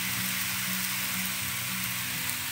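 Chocolate marbled crêpe batter cooks in a pan with a steady, soft sizzle, even and unbroken, with no voices.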